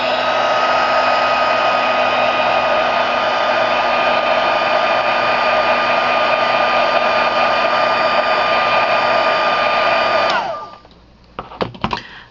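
A heat tool blows on coffee filter flowers with a loud, steady close-up whoosh for about ten seconds, then cuts off, leaving a few faint handling clicks.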